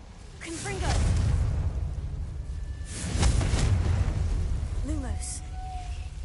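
Confringo fire spell blasts in Hogwarts Legacy, two rumbling bursts with whooshing tails, plus brief magical chimes and swishes between them.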